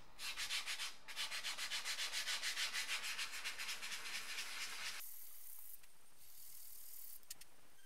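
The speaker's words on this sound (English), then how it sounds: "I needed to lightly sand the outer ring, the part that was most affected by wear and tear." The worn outer ring of a BMW E30 M-Technic sports steering wheel is lightly sanded by hand, with rapid rhythmic rasping strokes up close, then a softer, steadier scuffing after a short pause.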